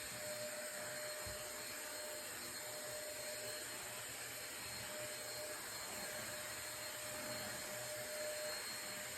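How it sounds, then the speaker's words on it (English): A vacuum cleaner runs steadily while cleaning a floor, a loud continuous whine and rush with no voices over it. "I'm going to vacuum the floor"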